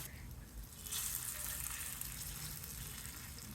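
Moong dal batter fries in a hot pan with a faint, steady sizzle and crackle that swells slightly after the first second.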